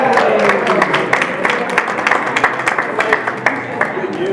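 A press conference crowd cheers and claps for Westmoreland County Community College, a dense, steady wash of clapping and voices with scattered sharper claps, fairly close.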